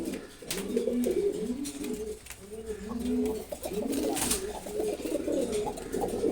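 Several khaki pigeons coo in repeated low, rolling calls, close and overlapping, with light rustling and clicks in the background.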